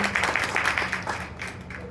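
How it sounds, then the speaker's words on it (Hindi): Brief burst of clapping from an audience at a business talk, moderately loud, then thinning out within about two seconds. "तो एक बार जोरदार तालियां होनी चाहिए आप सभी लोगों के लिए"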